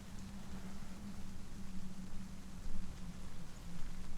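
Steady rain in the video game Hellblade: Senua's Sacrifice, a continuous soft hiss of falling water with a low rumbling wind-like undertone, fairly quiet and even throughout with no talking.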